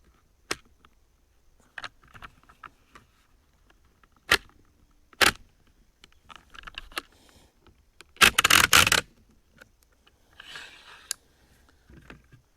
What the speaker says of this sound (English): You take your pusher and you push the rounds into the mag.